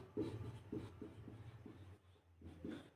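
Chalk or pen scratching across a board during a numerical-methods lecture, with a run of short, rhythmic writing strokes close by and no talk.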